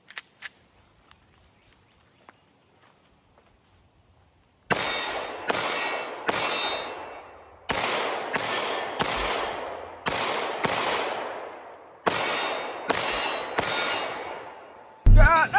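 A Smith & Wesson M&P 2.0 airsoft pistol fires about a dozen shots that strike a target, each a sharp, ringing clang. The shots come in an uneven rhythm after a quiet start with a few faint clicks.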